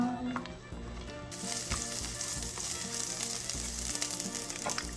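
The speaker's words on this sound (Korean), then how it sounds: "야채를 먼저 볶아줄 거예요. 먼저 당근 넣어주시고요." Carrots and other vegetables stir-frying in a pan: a sudden burst of loud, steady sizzling takes over after a quieter start, with occasional scraping stirs and no talk.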